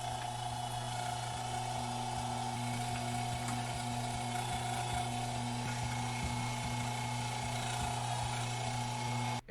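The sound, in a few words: meat grinder grinding frozen breaded onion rings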